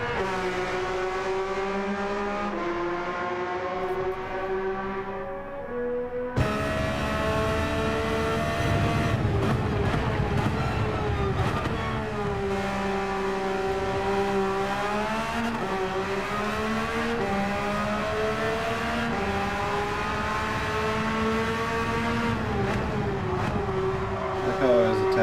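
Race car engine in a rally video game, harmonic engine tones rising and falling with throttle changes through corners, loud and continuous, with a speaking voice over parts of it.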